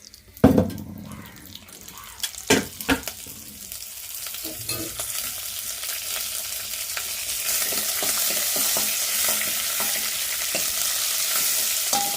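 Coconut frying in oil in a heated pan for coconut chutney, opening with a few loud clattering stirs, then settling into a continuous, strong hissing sizzle that builds and holds.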